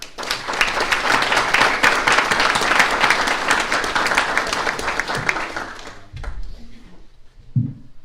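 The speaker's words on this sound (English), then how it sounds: "please join me in a round of applause to those who are currently serving" An audience at a chamber of commerce candidates' forum in Salado, Texas gives a loud, dense round of applause that fades after about six seconds, followed by a few soft thumps.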